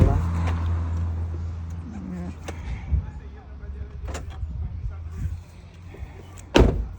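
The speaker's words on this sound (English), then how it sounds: "The car lock" A car lock clicks shut with a sharp, loud snap near the end, after a stretch of low engine rumble and scattered rustling during a family visit in rural Jamaica.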